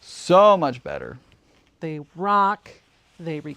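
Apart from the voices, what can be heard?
No everyday noise stands out behind the speech.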